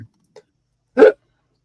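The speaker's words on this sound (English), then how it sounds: "You got the hiccups" A single sharp hiccup from a man, close and distinct, following a couple of tiny faint clicks in an otherwise quiet pause.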